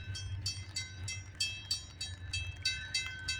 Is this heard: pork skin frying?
no